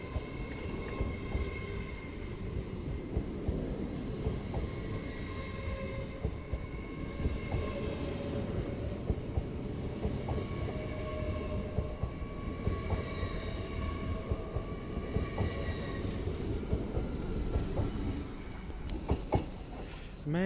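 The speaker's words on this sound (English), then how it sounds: "So now departing is 801203 with the 1353 LNER service to Leeds." An LNER Class 801 train, unit 801203, pulls out of Doncaster station with a steady rumble, electric whine and rhythmic wheel clatter, continuous and close, with a faint squeal near the end.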